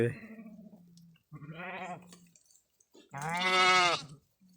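Three separate bleats from a sheep, close and clear, each a wavering cry with short quiet gaps between them.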